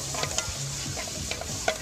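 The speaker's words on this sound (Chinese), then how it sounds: "他这辣椒炒肉炒得好" Chili pepper and pork are stir-fried in a wok at an open-air rural market, with soft sizzling under light scrapes and a few sharp clinks of the spatula, fairly quiet.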